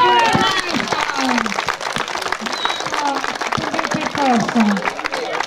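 A crowd at an outdoor horseback gymkhana claps for a rider, with steady applause running under an announcer's voice and some whistling tones.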